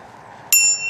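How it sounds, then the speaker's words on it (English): A single bright e-bike bell ding rings out sharply and close, its metallic tone lingering briefly over quiet background. "Very loud bell."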